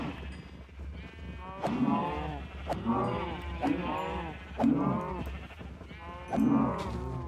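Several cows in the Minecraft video game low and moo in overlapping calls, one after another in a steady, close, busy cluster, with sparse game sounds beneath.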